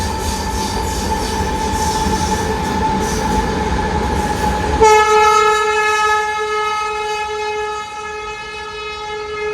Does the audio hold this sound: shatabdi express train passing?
yes